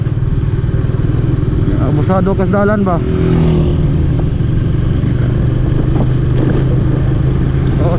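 Motorcycles and other vehicles pass on a road in the Philippines, their engines droning steadily and close, with a horn-like tone briefly, while people talk over the traffic.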